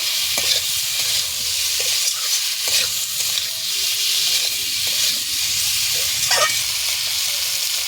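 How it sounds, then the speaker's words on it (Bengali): Masala sizzles and hisses steadily in a pan for egg and pea dal curry, with intermittent scrapes and knocks of a spoon stirring it close by, no talking. "ভালো করে কষিয়ে নেব"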